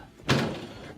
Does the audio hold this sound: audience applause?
no